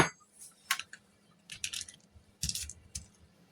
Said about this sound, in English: we are going to make sure we scrape the wrappers